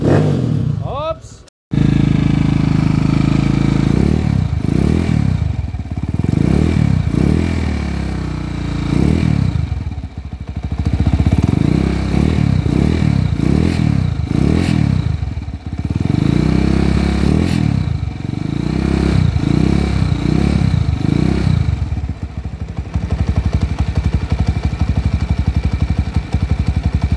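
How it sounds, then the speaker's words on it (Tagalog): A Honda TMX155 motorcycle engine upgraded to 200cc idles loudly up close and is revved again and again in quick surging bursts, with voices talking over the noise. "narinig na natin yung andar ng mga motor ni Bossing"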